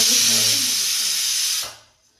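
A kitchen pressure cooker lets out a loud, steady hiss of escaping steam that holds for about a second and a half, then fades quickly to near silence.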